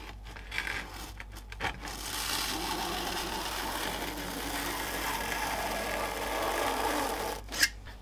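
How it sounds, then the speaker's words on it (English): A blade slices steadily through seat upholstery foam, a continuous rasping, sawing rub that runs for several seconds, with brief sharper knocks near the start and end. "use the whole length of the blade so it's thick enough to go through the foam"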